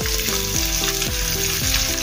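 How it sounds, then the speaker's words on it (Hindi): Onions hit hot oil with cumin for samosa filling, a loud, close, steady sizzle while faint background music plays underneath, with no talking. "अभी प्याज डालेंगे"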